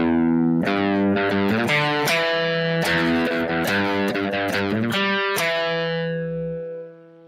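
A distorted electric guitar plays a run of single notes and short chords, loud and close, with the last note ringing out and fading at the end.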